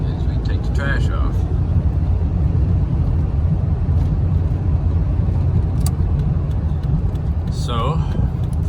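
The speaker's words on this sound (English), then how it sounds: "take a little ride along with me in the big red Ram as we take the trash off" Ram pickup truck driving on a road, a steady loud low rumble of engine and tire noise throughout, with a person talking faintly over it.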